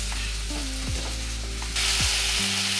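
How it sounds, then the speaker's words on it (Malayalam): Chicken stew mixture sautés in a second pan with a continuous close sizzle over a steady low hum, getting brighter and louder partway through; there is no talking. "വേറൊരു പാൻ വെച്ച് നമുക്ക് ഇതൊന്നുകൂടെ ഒന്ന് വഴറ്റിയെടുക്കാമെന്ന് വിചാരിച്ചാൽ"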